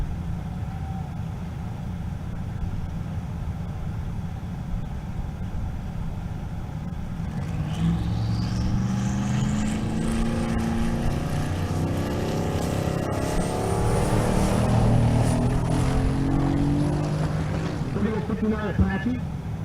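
A 1959 Apache pickup makes a drag strip pass at a race week event in Kearney, Nebraska. Its engine note climbs steadily from a distance and grows louder and higher, while an announcer talks throughout.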